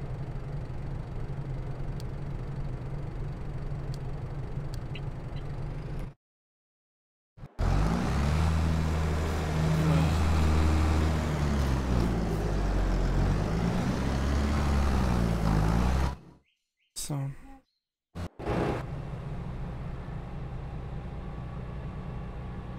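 A vehicle drives toward a field in Farming Simulator 22, its engine droning steadily and loud, cutting out briefly a few times before the hum resumes, with no talking throughout.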